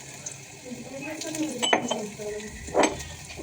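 Garlic hits a hot pan for chilli paneer with a soft sizzle and scattered metal scrapes of a spoon, rising to a sharper burst near the end, while a voice talks faintly underneath.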